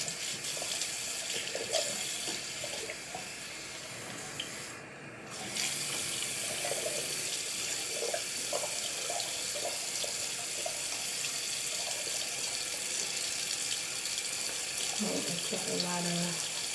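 Water runs steadily from a sink tap for the whole stretch, briefly interrupted once, with faint splashing as hair is held under the stream and some soft movement sounds.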